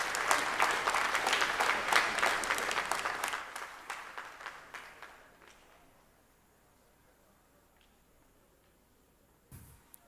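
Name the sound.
audience applause for outstanding work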